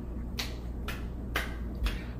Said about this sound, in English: Ready, clap.